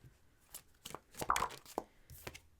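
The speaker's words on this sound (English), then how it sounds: "All right, way to shuffle that." Quiet papery riffling and soft slaps of tarot cards being shuffled, a few short bursts spread unevenly, close by with no talking.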